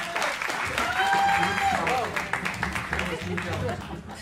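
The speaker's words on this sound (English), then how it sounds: "give her a round of applause one more time" Audience applause at an open mic jazz jam, a full burst of clapping from the room that runs for a few seconds while a host speaks over it.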